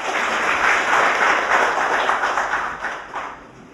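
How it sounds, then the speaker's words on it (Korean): An audience claps at a formal commemorative ceremony, with loud, dense applause that holds steady and then thins out and fades toward the end. "큰 박수를 부탁드리겠습니다."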